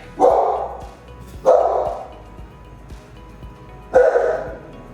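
Dogs bark indoors in three loud, close bursts spaced about two seconds apart, each a deep resonant woof with a short tail, with quieter background between them and no talk.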